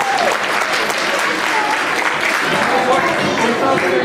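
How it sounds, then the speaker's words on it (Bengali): Loud, dense applause from a large audience at a Bengali New Year 1425 celebration held by Udichi in New York, marking the group's 50th anniversary; steady clapping fills the whole stretch with crowd voices mixed in. "একটু হাততালি দেবেন জোরে"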